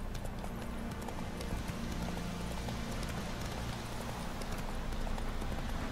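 The horse Roach gallops in the video game The Witcher 3, a fast, continuous clip-clop of hooves close by over a dense, rain-like wash of background noise, with no talking.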